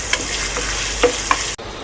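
Red chillies and whole garam masala fry in hot oil for a chicken kofta curry, with a steady close sizzle and a few soft stirring scrapes before the sound cuts off abruptly near the end.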